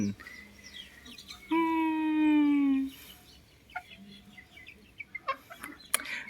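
A single drawn-out, harmonic call from a bantam chicken rises out of quiet background, followed by a few short scattered clicks and rustles.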